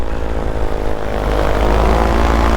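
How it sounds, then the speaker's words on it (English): A paramotor engine runs steadily in flight during midday thermal soaring, a loud, close, continuous propeller drone with a gritty buzz and only slight shifts in pitch. "Barely on the motor and we're going up."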